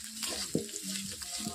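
Ginger-garlic paste frying in a wok for a jackfruit curry, with close, steady sizzling and the scrape and clack of a spoon stirring through it.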